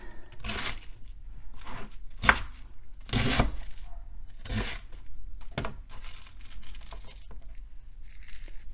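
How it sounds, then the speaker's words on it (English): Knife chopping roast beef into big chunks on a cutting board, with a string of sharp, irregular cuts and thuds close by. Some soft crinkling sounds between the cuts, and no talking. "I'm going to cut it into big chunks."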